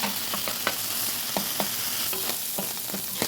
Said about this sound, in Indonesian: Nah, ini akan saya tumis dulu sampai sedikit menyusut air tuna.